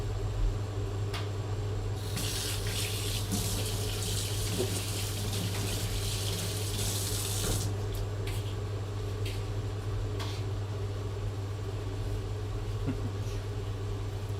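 A kitchen tap runs for hand washing during a live cooking session, a soft steady water hiss that swells for several seconds then eases, over a constant low hum.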